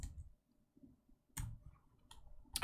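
Bursts of clicky keystrokes on a computer keyboard during forex trading, a few quick clusters separated by short pauses, close and fairly quiet.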